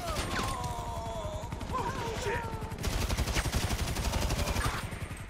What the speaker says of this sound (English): Shooting up in the sky for no reason